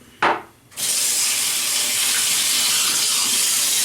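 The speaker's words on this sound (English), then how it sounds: "I'm gonna just wet the razor." A brief splash, then a kitchen or bathroom tap runs in a loud, steady gush to wet a razor for shaving.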